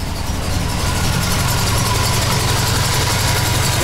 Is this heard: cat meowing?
no